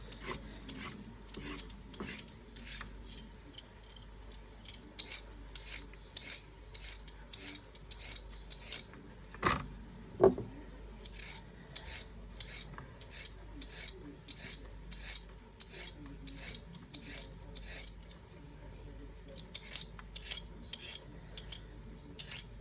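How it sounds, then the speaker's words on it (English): Carrots being peeled with a vegetable peeler, a quiet, regular series of short rasping strokes repeating for over twenty seconds, close up, with one louder clunk midway and no talking. "So first off, I peel my carrots."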